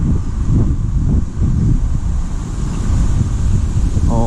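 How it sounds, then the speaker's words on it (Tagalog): Strong outdoor wind roars steadily across the microphone on a ride around Tagaytay, a continuous low rumbling gust noise with no voices. "Ito, mahangin. Dito mahangin."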